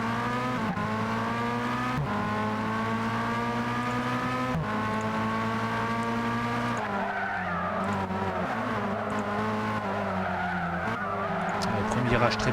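Race cars in a Gran Turismo video game race roar through the opening corners, with layered engine drones shifting pitch, tire squeal and skidding throughout, while a commentator talks over the continuous loud engine noise.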